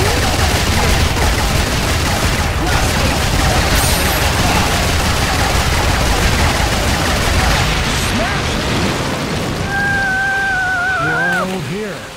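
Rapid, dense gunfire from the golden gun in the arcade game Deadstorm Pirates, a continuous loud barrage with booms, ending in rising and falling electronic tones as the shooting stops.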